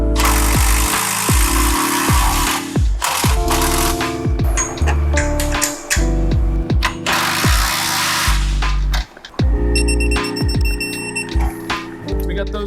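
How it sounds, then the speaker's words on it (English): A power drill bores a bolt hole through a Miata's frame for a roll cage install, with loud whining bursts, stops and restarts, and clanking metal between them. "we can go ahead and drill our last bolt hole here"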